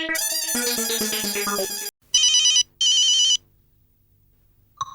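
A household telephone rings in a sitcom scene: a loud jangling burst, then two shorter electronic trill rings, followed by near silence and a faint click.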